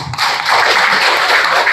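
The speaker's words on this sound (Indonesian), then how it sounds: "Boleh dong kasih tepuk tangan." Short burst of audience applause after a school presentation, dense overlapping hand claps swelling quickly and holding steady, loud and near, with no speech over it.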